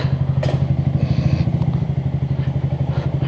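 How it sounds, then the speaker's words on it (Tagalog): A Barako 175 motorcycle idles close by, its engine thumping in a steady, even low pulse that holds for the whole stretch with a light mechanical clatter on top. "So ayan po yung aking bagong motor na Barako 175."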